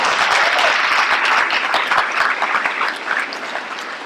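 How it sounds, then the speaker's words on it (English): Graduating students and families at a 2024 Toms River Schools STEAM Academy ceremony break into loud applause, a thick burst of clapping that gradually thins toward the end. "give yourself a round of applause for that."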